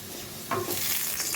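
Potatoes fry in hot oil in a pan, a quiet steady sizzle that jumps louder as they are stirred and scraped about halfway through, close and without voices.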